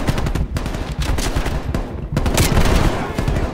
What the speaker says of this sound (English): the shotgun feels so good